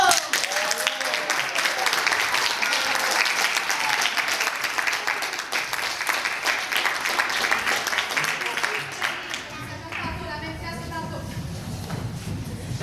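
A theatre audience gives a long, full round of applause for the performers, dense and steady for several seconds before thinning out. Voices come in toward the end.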